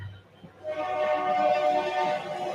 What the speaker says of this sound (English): Come on, train, you snuck up on me.